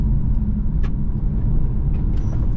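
An Infiniti Q50 Red Sport 400 on Dunlop summer tires rolls over a bump, a steady low road and engine rumble filling the cabin with a couple of faint brief knocks as the car goes over.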